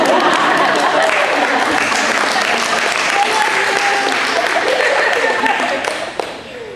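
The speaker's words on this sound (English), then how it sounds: "You can clap." Loud, dense applause from a book-launch audience fills nearly seven seconds, steady clapping with some voices and cheers mixed in, thinning slightly toward the end.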